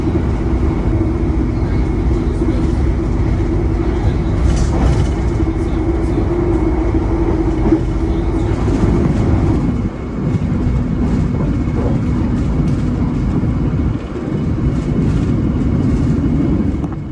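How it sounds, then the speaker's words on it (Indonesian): A Taksaka passenger train slows and stands at Kutoarjo station, heard from inside as a continuous loud rumble and hum with steady low drone, a few clunks and shifting noise, and no clear speech. "kereta ini tiba di stasiun Kutoarjo sebagai stasiun pemberhentian pertama"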